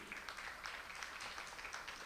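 Audience applause at a university opening ceremony, a steady wash of many hands clapping at moderate distance, even and sustained throughout without pause.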